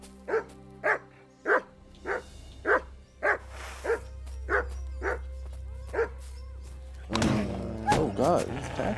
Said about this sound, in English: Oh, I see. There's a dog.